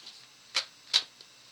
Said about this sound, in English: the shuffling is super loud